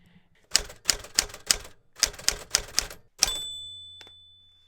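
A manual typewriter is typed on in two quick bursts of sharp clacking keystrokes, close and crisp, ending with a ringing bell and a carriage-return slide.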